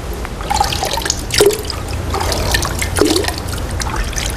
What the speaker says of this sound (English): Now I am dipping this one to water.